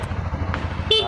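A Honda CBR150 motorcycle idles with a steady low rumble, then its horn gives one short, close, loud beep right at the end.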